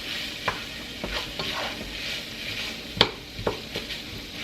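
Cream cheese is stirred into taco soup in a pot, a spoon scraping and sloshing in irregular strokes over a soft sizzle, close and moderately loud.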